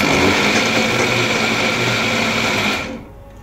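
An electric mixer grinder whirring steadily while grinding semolina, a loud high-pitched motor whine that holds for nearly three seconds before cutting off and winding down.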